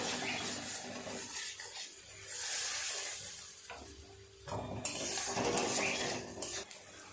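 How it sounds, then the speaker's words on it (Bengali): Spice paste of ground coriander, salt and a little water being stir-fried in a pan for a fish roe dish, with a steady sizzle and repeated scraping and clinking of a spoon against the metal. "অল্প একটু জল দিয়ে খুব ভালো করে মশলাটাকে কষিয়ে নেব।"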